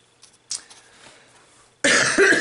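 A single loud, harsh lingering cough bursts out close to the microphone after a few seconds of quiet rustling.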